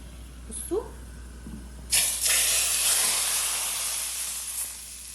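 Onions fry in oil in a home kitchen, breaking into a loud, close, sustained hiss and sizzle after a brief quiet moment, and the sizzle slowly eases over the following seconds.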